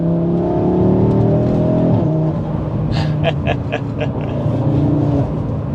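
A 2025 Audi RS3 in performance mode accelerates with a loud, steady engine roar and rising revs heard from inside the car, accompanied by brief clicking or ticking sounds midway.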